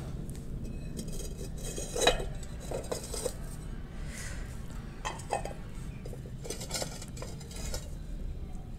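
Clay pottery mug and plates being handled, with a few light clinks and scrapes of earthenware and one sharper knock, set against a steady low background hum with no talk.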